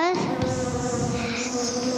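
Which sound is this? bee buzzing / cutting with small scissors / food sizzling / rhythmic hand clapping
bee buzzing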